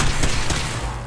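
Gunfire in the Fallout 4 video game: a brief loud burst of two or three close shots with dense low rumble, no talking.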